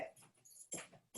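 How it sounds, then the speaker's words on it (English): A pet dog barks indoors at home in a few short, sharp bursts spread over about a second, fairly close and with no talking over it. "I don't know why my dog is all of a sudden barking"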